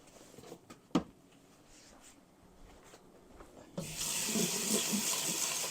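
A few soft knocks and handling sounds, then a tap turns on and water runs steadily into a sink, close by.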